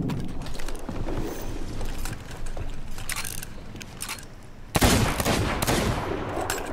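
Rapid weapon fire aimed at the Kraken in Sea of Thieves, a dense, crackling barrage of shots that runs throughout, with a loud sharp burst partway through and a fainter clatter of mechanisms underneath.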